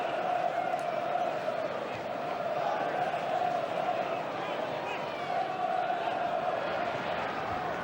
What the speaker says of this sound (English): he gets a great reception from the crowd